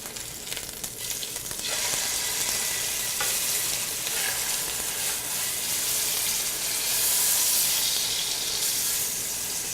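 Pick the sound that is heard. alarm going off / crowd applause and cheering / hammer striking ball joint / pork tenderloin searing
pork tenderloin searing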